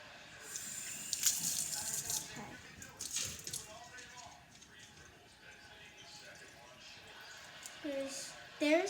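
Water trickles into a measuring cup during slime making, soft, uneven pouring and splashing sounds at low volume with a short rise near the end.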